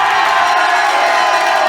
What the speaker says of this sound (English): Listen to the crowd explode.